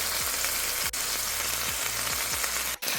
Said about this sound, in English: I've added about 1 tablespoon of vegetable oil and the meat